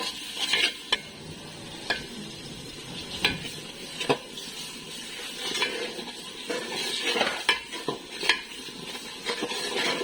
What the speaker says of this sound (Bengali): পেঁয়াজগুলা ভালো করে কষিয়ে নিচ্ছি